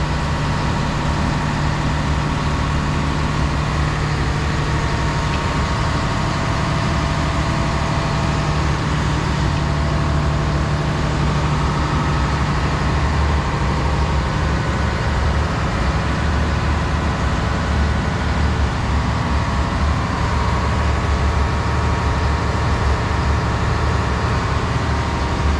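Engine room of the tallship Danmark, docked at Muelle Dos in Malaga, with a large marine engine running: a loud, steady, low droning rumble with a constant hum throughout and no talk.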